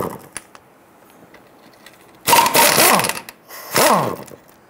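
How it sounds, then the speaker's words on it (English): Pneumatic impact wrench or ratchet spinning out two 16 mm center transmission mount bolts on a 1994-2004 Ford Mustang, two loud whirring bursts after a quiet stretch of faint clicks, close by and alone. "We're going to remove our two center bolts here."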